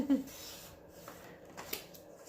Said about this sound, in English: I think I'm going to cut it off right here.